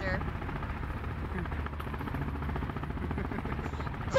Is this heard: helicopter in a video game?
yes